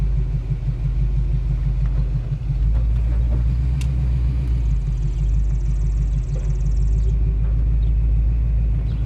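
A 1967 Pontiac Firebird convertible's engine runs at a steady, loud idle, a deep pulsing rumble that holds evenly throughout with no voices.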